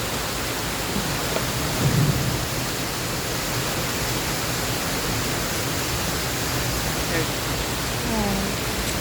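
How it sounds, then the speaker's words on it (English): A waterfall roars in a steady, hissing wash as an Opryland Delta river boat passes behind it, with faint voices barely rising above the noise. "Behind the waterfall."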